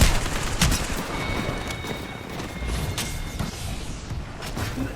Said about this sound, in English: Okay, firecrackers.